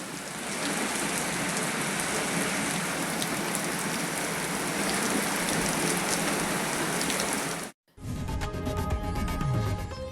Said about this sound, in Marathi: आंबोली, सावंतवाडी या परिसरामध्ये मुसळधार पाऊस आहे